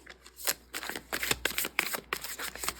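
A large combined pile of tarot cards from many decks is shuffled by hand in continuous riffling, flapping bursts, close and fairly quiet, with no voices.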